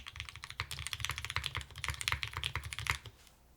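Brisk, fairly quiet clacking keystrokes on The Juna mechanical keyboard, a dense run of individual key presses with no voices.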